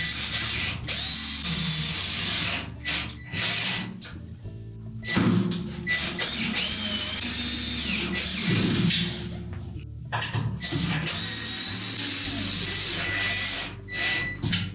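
A power drill drives long screws, 1.5 to 2 inches, into a Whirlpool washer during a transmission seal repair. The motor whirs loudly and steadily close by, with short stops and restarts and the gritty grind of screws threading in.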